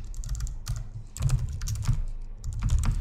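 Rapid clattering keystrokes on a computer keyboard as a Python manage.py command is typed, steady and fairly close, continuous for about three seconds with no talking.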